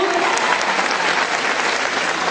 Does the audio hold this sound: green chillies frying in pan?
no